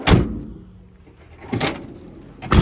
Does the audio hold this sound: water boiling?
no